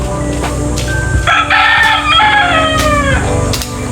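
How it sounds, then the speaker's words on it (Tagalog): A rooster crows loudly and close by, with chickens clucking throughout and other farmyard noise in the background. "Daghan man siya manok ana o."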